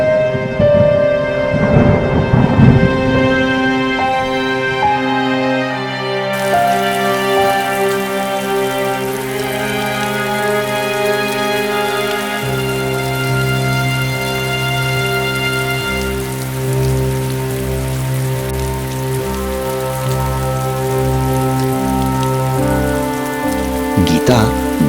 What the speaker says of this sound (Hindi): तभी अचानक तेज बारिश शुरू हो गई।